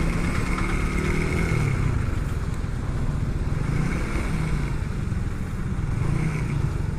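Heavy December traffic in Naga, with motorcycles and cars idling and creeping along in a steady mid-pitched engine drone, close and continuous with occasional gentle revs and no voices.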